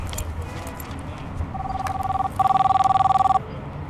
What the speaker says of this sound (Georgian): ტელეფონი რეგავს.